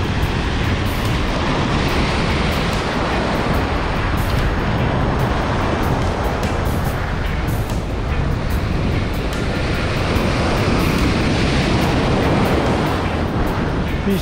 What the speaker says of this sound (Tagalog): yung hampas ng alon dito